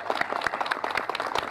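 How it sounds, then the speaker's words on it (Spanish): Brief burst of applause from a community crowd at an outdoor food-delivery event in Manablanca, Facatativá, scattered uneven claps fairly faint and distant. "Un fuerte aplauso para él."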